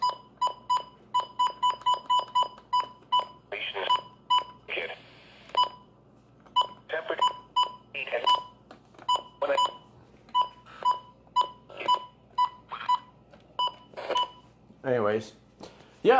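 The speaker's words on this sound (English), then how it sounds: "those are the iconic sounding button beeps on each WR100" Rapid series of short electronic button beeps from Midland WR100 weather radios, some in quick runs and others spaced out, with a voice talking faintly between them.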